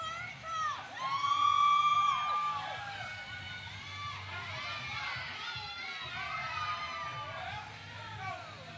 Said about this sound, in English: Still got a nice crowd here.